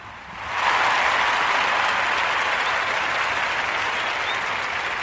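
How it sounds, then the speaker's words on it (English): An audience bursts into applause, a dense steady wash of clapping that swells in quickly and holds at full strength for several seconds without talk. "So give yourselves a round of applause."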